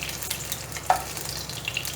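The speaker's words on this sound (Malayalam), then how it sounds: "എത്ര എണ്ണയാണ് നിങ്ങൾക്ക് വേണ്ടത് വെച്ചാൽ അത്ര എണ്ണ ഒഴിച്ചിട്ട് ഇത് വറുത്തെടുത്തോളൂ" Okra (ladies finger) frying in a few tablespoons of oil in a pan, a steady soft crackling sizzle throughout with one small pop, no voices.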